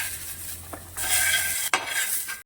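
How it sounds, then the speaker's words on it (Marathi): A spatula stirs softened onion with ginger and garlic in a pan while cooking a village-style egg curry masala, scraping in a few close, distinct strokes over a light sizzle. No one talks. "आता कांदा छान मऊ झाला की यामध्ये अद्रक लसूण टाकून द्यायचं आहे व या सगळ्या गोष्टींना आपण छान असं मिक्स करून घेऊया"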